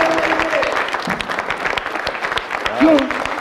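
Audience applause fills a live stand-up comedy show, a dense steady clatter of clapping throughout, with a short vocal sound near the end.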